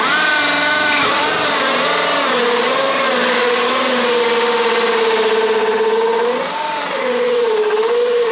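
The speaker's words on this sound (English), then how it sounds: "But first, I'm going to drill that hole in there." A power drill bores a hole into wood for a bird house, its motor whining loudly and steadily with pitch dips as the bit bites into the workpiece, running alone nearly the whole time.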